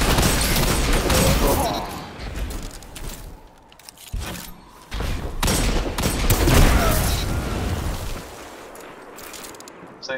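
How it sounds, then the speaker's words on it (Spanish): Dense, sustained gunfire in the shooter game Destiny 2, loud overlapping volleys with brief lulls, rolling on for several seconds and swelling again toward the end. "Está disparando"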